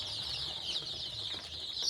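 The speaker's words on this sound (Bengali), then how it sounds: "দেখতেই পাচ্ছ আমার মুরগি কটা" Domestic chickens at a small poultry store clucking steadily as a low, close flock murmur, with no one talking.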